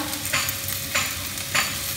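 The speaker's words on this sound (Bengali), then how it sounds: "হয়ে গেছে ভালো করে সবজিগুলো ভাজা।" Vegetables being stir-fried with onion and green chilli for chow mein give a loud, steady sizzle. Three distinct spatula strokes scrape through the pan at roughly even intervals.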